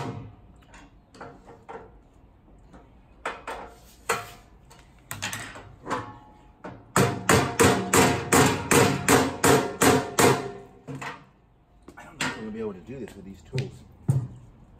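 Repeated metallic hammer blows on a metal safe ring out, at first scattered, then a fast steady run of loud strikes, with talk in between.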